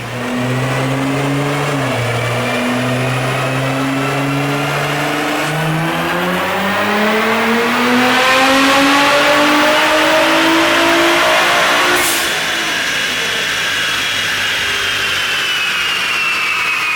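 A front-engine Corvette V8 running on E85 on a chassis dyno, climbing steadily in pitch through a long loud pull before backing off at the end.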